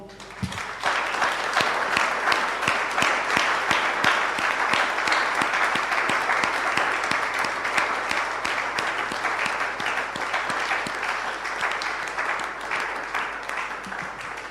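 A church congregation gives a long, sustained round of applause as an offering of praise in an evangelical service, dense clapping of many hands holding steady and loud before tapering slightly at the end.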